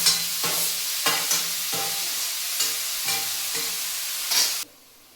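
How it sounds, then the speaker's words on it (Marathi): Spinach bhaji is stir-fried in a kadhai, a loud steady sizzle broken by regular scraping stirs roughly every half second, then cut off abruptly near the end, with no talk. "आणि भाजी अशी परतत आहे बघा"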